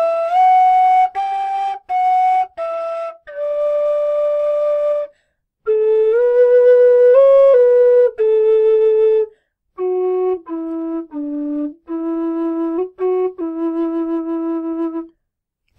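Bright tin whistle notes from a melody play alone and close, a phrase of short and held tones with gentle slides between neighboring notes and small gaps for breath.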